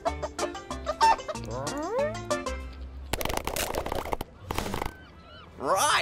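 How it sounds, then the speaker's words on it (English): A cartoon hen squawks in noisy, harsh bursts after a stretch of bright music, with a final honking cackle near the end; the sounds are loud and close. "Oh, Snowy, you are a naughty hen."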